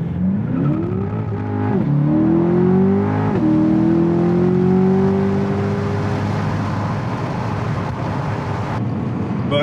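Chevrolet Corvette engine revving and accelerating loudly and close by, pitch climbing in stages with brief gear-change dips, then holding a steady drone.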